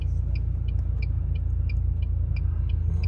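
Car engines idle in a traffic jam on a road, a steady low rumble filling the clip, with faint regular high ticks repeating over it and no talk.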